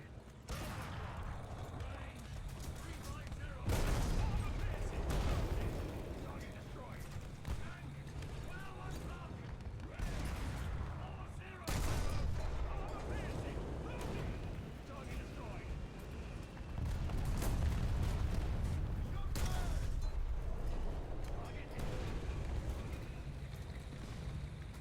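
Tank cannon fire in the War Thunder video game, with several loud, broad booming blasts at intervals over a steady rumbling engine and mechanical clatter, a voice talking over it.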